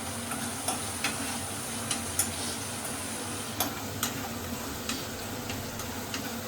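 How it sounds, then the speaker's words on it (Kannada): Onions sizzle steadily in a pan while a spoon taps and scrapes at a slow, regular rhythm, the frying hiss constant underneath the light knocks. "ಸ್ವಲ್ಪ ಚೆನ್ನಾಗಿ ಈರುಳ್ಳಿ ಫ್ರೈ ಆಗಲಿ."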